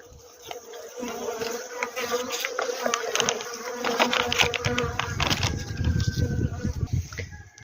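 Honeybees buzz busily in an opened hive in winter, a dense, steady drone with rustling and crawling sounds close by and a few faint clicks throughout.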